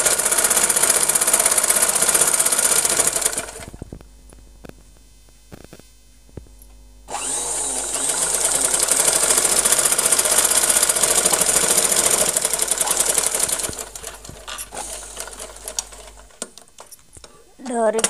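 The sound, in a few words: sewing machine stitching a long frock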